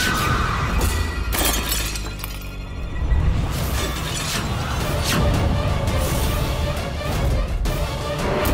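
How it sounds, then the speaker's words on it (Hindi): A mirror's glass shatters and breaks apart in a dramatic scene, with sharp crashing bursts and tinkling fragments recurring over several seconds against a busy, loud background. "शीशा टूट गया।"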